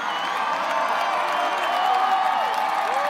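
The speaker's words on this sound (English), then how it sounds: "Listen to the crowd." A crowd cheering and calling out as a solar eclipse nears totality in Charleston, South Carolina, a sustained wash of distant voices and whoops with a few rising shouts over a steady murmur.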